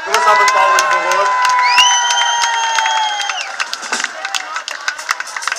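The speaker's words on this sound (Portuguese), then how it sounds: "Uma salva de palmas, por favor." Outdoor crowd at a São Roque festival in Madeira cheers and whistles loudly, then breaks into scattered, irregular clapping as the noise fades.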